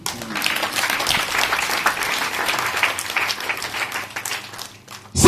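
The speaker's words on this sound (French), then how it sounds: "Acclame Jésus." A church congregation claps in sustained applause, dense and steady throughout, with a few voices faintly mixed in.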